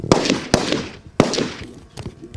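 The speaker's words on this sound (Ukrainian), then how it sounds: "Бійці переходять на вогневий рубіж, стріляють у трьох положеннях" Several sharp rifle shots crack in quick succession at a firing range, loud and close, each followed by a brief echo across an open space.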